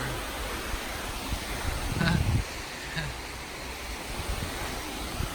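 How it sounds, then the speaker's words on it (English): Steady broadband rushing of a waterfall along an eroded creek bank with trees, a continuous outdoor wash that stays even throughout, with a brief faint voice-like sound partway through. "That's the waterfall."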